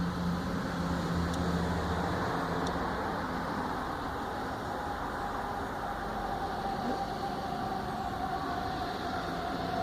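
A Federal model 5 rotating siren under test, its wail held as a faint steady tone under a dense broadband rumble of outdoor noise for about ten seconds, with no talk.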